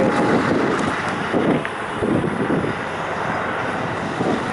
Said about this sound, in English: Probably getting a bit windy over the camera now anyway.